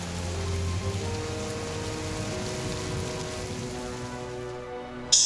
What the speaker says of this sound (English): fighting their way back through the wind and rain